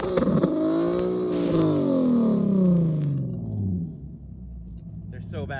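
A budget drift car's engine revs hard in a parking lot, a loud whining climb and fall of pitch that trails off, with people talking over it.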